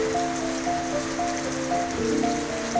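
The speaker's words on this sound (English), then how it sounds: "Rain falls in sheets beyond the bamboo overhang, smudging the line between memory and present." Rain falls in dense sheets beyond a bamboo overhang near Kyoto, a steady close hiss of drops on surfaces, with faint sustained tonal music in the background and no talking.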